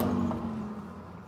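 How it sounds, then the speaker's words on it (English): Cars pass by outside, a steady low road rumble with a faint swell of tire noise, heard fairly quietly and alone. "Sorry about the cars."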